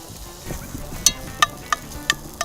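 Seasoned taco meat cooks in a pan outdoors in the woods, giving a soft steady sizzle broken by a few sharp clicks and pops.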